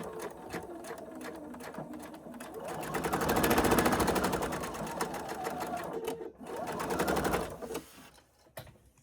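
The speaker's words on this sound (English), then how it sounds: "you're going to sew right along that edge." A sewing machine stitches along a fabric edge while a basket is being sewn, giving a rapid mechanical chatter that swells and fades in bursts, with a brief pause before a second run and soft handling noises at the end.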